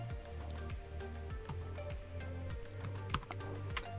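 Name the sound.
typing a search on a computer keyboard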